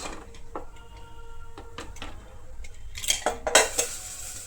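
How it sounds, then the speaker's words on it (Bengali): A pressure cooker lid comes off in a home kitchen during mutton curry cooking: quiet scattered metallic clinks and pot clatter, then a denser, louder burst of rattling near the end. "এবারে ঢাকনা খুলে দেখতে হবে সেদ্ধ হয়েছে"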